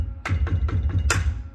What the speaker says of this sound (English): the kick drum kind of sounds like this